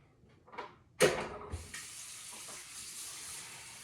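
Water from a tap pours into a pot of Newfoundland-style baked beans seasoned with pork scrunchions, starting with a sharp splash and then settling into a steady, close rushing fill that runs alone to the end.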